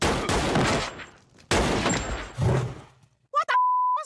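Cartoon gunfire from a burning fire wielding a gun: a rapid loud volley of shots, a pause, then another burst, followed by short electronic beeps.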